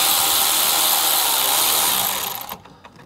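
A power tool whirring steadily and loud while a worm gear clamp is removed from an inline filter hose on a Bobcat T76 R-Series machine, winding down after about two and a half seconds, followed by a few light knocks.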